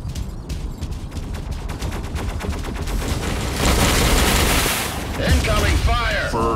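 Gunfire from a battle in the Mech Arena video game: dense rapid machine-gun bursts build to a loud sustained barrage with heavy booms, close and continuous, and game voice announcements occasionally break through.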